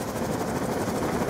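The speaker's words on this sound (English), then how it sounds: "Hostile stealth chopper inbound." Hostile stealth helicopter in the shooter Black Ops II, a steady dense rotor roar filling the whole moment with no clear beats, loud and continuous.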